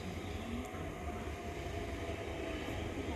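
A Southern passenger train at a London station, heard as a steady broadband rumble and hum of the train with station ambience, fairly quiet and continuous, without talk.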